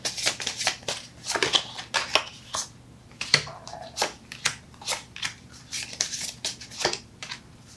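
Tarot cards being shuffled and drawn during a reading, heard as a steady series of close, crisp riffling and snapping bursts with soft slides between them and no talking.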